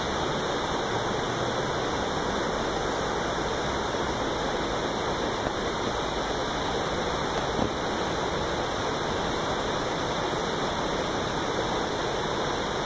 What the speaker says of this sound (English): So this is the River Roch.